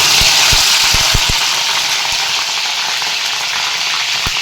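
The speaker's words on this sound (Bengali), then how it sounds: "কড়াইয়ে তেল দিয়েছি, তেল গরম হয়ে গেছে। এবার ভেন্ডিগুলোকে ভেজে নেব।" Sliced okra fries in hot oil in a wok, giving a loud, constant close-up sizzle with a few faint clicks and taps underneath.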